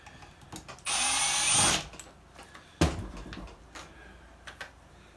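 A power driver briefly whirs while removing screws from a KitchenAid Professional 5 Plus stand mixer, one short burst followed by a sharp knock and faint handling clicks.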